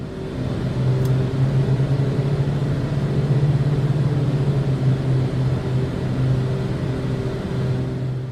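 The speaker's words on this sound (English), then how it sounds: "we will hear the characteristic twin-engine beat frequency, which is produced by having slightly different RPMs set on the two engines" Twin engines of a BAE146 in Microsoft Flight Simulator produce a constant low drone with a slow pulsing beat from slightly mismatched RPMs, steady throughout.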